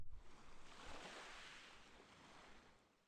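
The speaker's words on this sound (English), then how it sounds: "The waves crash against the shore, bringing with them echoes of the roaring ocean." Ocean surf washing against a shoreline, a broad rushing swell that builds and slowly recedes, steady and moderately loud with no voices, played as ambient sound in the visual novel Never 7: The End of Infinity.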